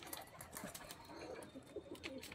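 Pigeons coo softly around a rooftop loft at sunset, where one drinks water from a bucket; low murmuring calls sit in a steady, fairly noisy outdoor wash with faint rustling.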